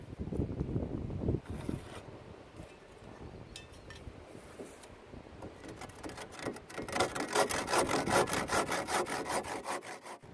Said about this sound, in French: je vais couper 3 mètres 40 cm de la planche